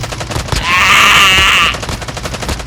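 Rapid automatic fire from an MX9 in Call of Duty Mobile, one sustained close burst lasting about a second with a ringing, buzzing rattle, set against quieter game noise.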